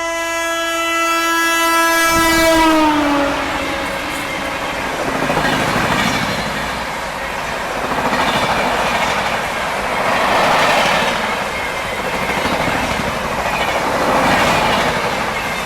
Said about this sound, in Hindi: पर सामने से कोई तो ट्रेन क्रॉस हो रही है।